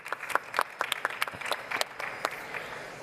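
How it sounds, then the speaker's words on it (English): Warm applause from a conference audience at a women-in-STEM startup diversity panel, steady scattered clapping that carries on for several seconds at moderate loudness, with no talking over it. "let's give a warm applause for the speakers"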